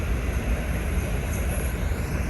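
Steady, broad rumble of a train running on the rail line, with a dense low roar and constant hiss, continuous and fairly near, no voices.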